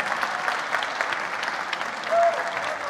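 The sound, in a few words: audience applause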